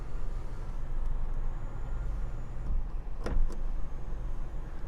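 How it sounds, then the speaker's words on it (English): A one-touch power moonroof on a 2021 Honda HR-V EX slides open with a steady, close motor whir over faint cabin hiss, ending in a brief clunk near the end. "We're going to have a one-touch power moonroof."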